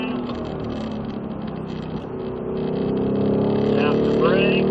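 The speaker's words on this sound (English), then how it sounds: "squeeze on the gas" A Ford Mustang accelerating on a low-speed track course, its engine drone building steadily louder through the second half with a rising whine near the end, while a voice talks over it.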